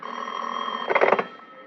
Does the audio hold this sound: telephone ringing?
yes